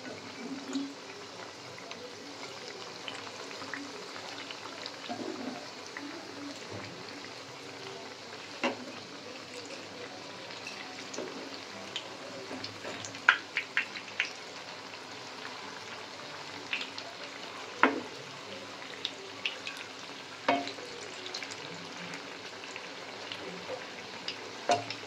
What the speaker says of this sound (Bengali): পেঁয়াজি কটা ভেজে নি।